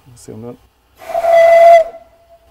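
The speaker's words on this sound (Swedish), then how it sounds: "Så har vi till exempel ångvisslan här." A steam whistle on the valve manifold of a steam engine gives one loud, steady hissing blast of about a second, with a clear tone, and then trails off. A brief voice is heard just before the blast.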